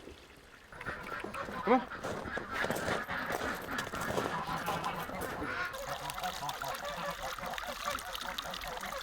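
Farm ducks and geese honk and quack in a busy chorus close by, with a person speaking briefly over the flock.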